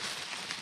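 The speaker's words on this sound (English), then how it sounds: "There's tissue paper. More noise." Brief rustling crinkle of tissue paper from a microphone box being unpacked, close and fairly soft, a dense crackly texture lasting under a second.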